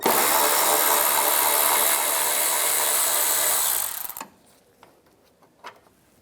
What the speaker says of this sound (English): We're going to take this screw out, use a 7mm socket.